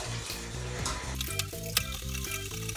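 Béchamel sauce with potatoes is stirred in a pan, giving a soft, close bubbling and scraping with a few sharper knocks of the spoon over a low, steady hum.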